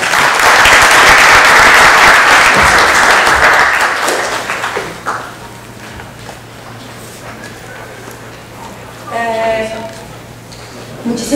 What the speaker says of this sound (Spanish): solicitándole el reconocimiento y el aplauso a los integrantes de nuestro panel